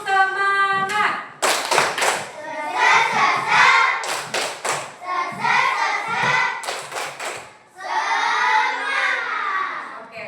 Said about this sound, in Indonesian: sebelum kita mengerjakan kita ini tepuk semangat dulu